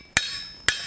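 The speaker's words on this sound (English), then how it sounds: "So I'm just going to use this drift punch and" A hammer strikes a drift punch to open a hole in a hot forging for a roasting fork, two sharp metallic clanks half a second apart, close and loud, each leaving a bright ringing tail.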